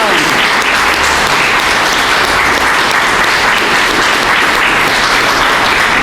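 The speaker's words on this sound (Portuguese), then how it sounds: "Muitas palmas para Jesus" Audience applause for Jesus at a Christmas gospel gathering, a dense, steady wash of clapping from a crowd filling the whole stretch, loud and close.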